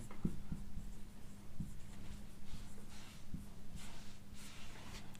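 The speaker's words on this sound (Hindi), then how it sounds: "चलिए कार्यकाल में इधर मैं एक बार लोकसभा लिख देता हूँ" Marker or chalk writing on a classroom board, with scratchy strokes and short taps repeating steadily at close range over low background hum, no talking.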